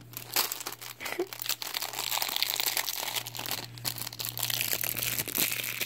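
Plastic wrap being crinkled and peeled off a Mortal Kombat collectible, close, continuous crackling and rustling with brief sharper crunches, over a low steady hum.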